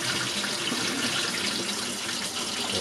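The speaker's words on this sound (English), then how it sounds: "And give it a rinse." Steady rush of running water rinsing a film developing tank, loud and close, continuous for the whole stretch with no voices.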